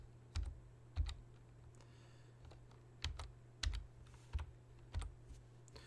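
Quick keystrokes on a computer keyboard while entering notation in Sibelius music software, about eight soft, crisp clicks in uneven pairs and singles, close and quiet with no talking.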